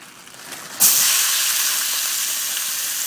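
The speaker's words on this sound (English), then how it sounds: "It's already got a nice sizzle to it" A loud, steady sizzle erupts abruptly after a quiet moment, hissing continuously as vegetables hit a hot pot, with no voices.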